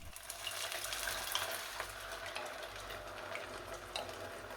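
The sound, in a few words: tomato mix poured into sizzling pan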